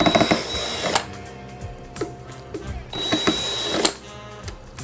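Screws being worked out of a JBL Venue Sub 10 subwoofer with a whirring tool, repeated mechanical buzzing runs broken by clicks and pauses, close-up and alone.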